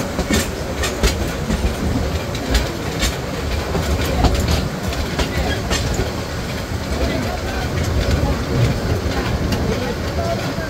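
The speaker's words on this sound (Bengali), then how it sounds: "অপরদিকে ট্রেনটি প্রবেশ করছে তিস্তা জংশনে" The Korotoa Express rolls into Tista Junction in light drizzle, heard from on board as a loud steady rumble with rhythmic wheel clatter and occasional clicks, continuous throughout.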